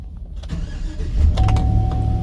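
A Chevy car's engine cranks and catches after a key relearn, with a brief starter whir followed by the engine settling into a steady idle close to the microphone, no voices.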